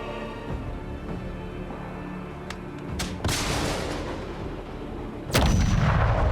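A heavy weapon fires in a video game battle, sending out a few loud, sharp booming blasts with rumbling decay over a steady background of game ambience.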